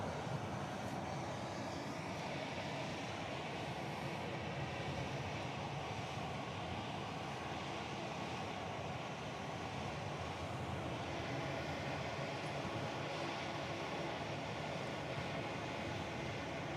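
A Hawaiian Airlines airliner arriving from Las Vegas at Honolulu airport makes a steady, fairly faint broadband jet roar that holds evenly throughout, with no talk.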